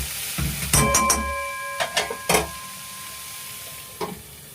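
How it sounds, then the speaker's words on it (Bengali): Mustard paste stirred into a frying shrimp curry, a soft sizzle under a few scraping stirs, with a thin ringing tone partway through. "এর মধ্যে সর্ষে বাটাও দিয়ে দিলাম দিয়ে এবার একটু নাড়লাম"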